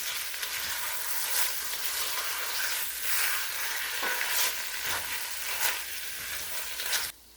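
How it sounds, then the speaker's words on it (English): Ham sears in butter and oil with a loud, close, continuous sizzle. Sputters and stirring scrapes rise and fall throughout, and no voices are heard. "We're going to start off by searing up or browning our ham first"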